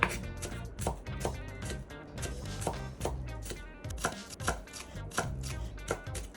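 Cabbage being chopped with a knife on a cutting board for a sugar-free coleslaw: a steady, fairly quick run of crisp, close knife strikes, each a sharp tap, with no talking.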